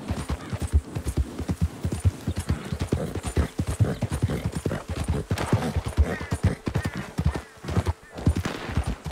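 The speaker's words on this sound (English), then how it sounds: "Look after your horse, Hunts." A horse's hooves clip-clop in a fast, steady rhythm in the video game Red Dead Redemption 2, loud and close, with the horse snorting now and then amid the galloping beat.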